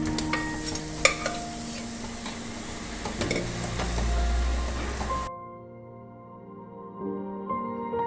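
Spice paste loosened with a little hot water, stirred and roasted in a pan for Kerala-style breadfruit mappas, giving a busy sizzle with scraping strokes that drops off halfway, leaving a quieter low hum.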